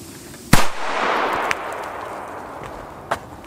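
A Kalaschnikow firecracker explodes with one loud, sharp crack and a brief echoing rumble, followed by two much smaller pops spaced apart against a quiet outdoor background.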